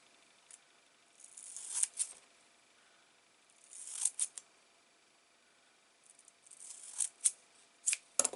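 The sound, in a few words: herb scissors cutting fabric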